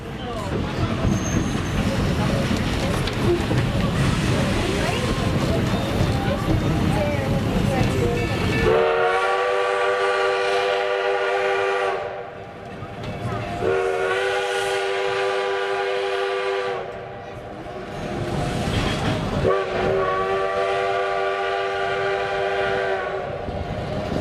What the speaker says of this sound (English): we normally apply the brakes here and really lay on the whistle